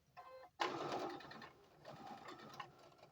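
A sewing machine stitches a garment seam up to the center in a short burst after a brief pause, its rapid mechanical whirr close and moderately quiet, with a softer second run of stitching.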